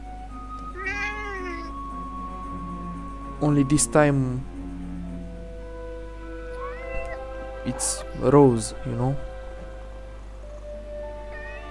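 A cat in the video game Forspoken gives several clear, drawn-out meows in separate calls over a steady low background hum, with a person talking quietly between them.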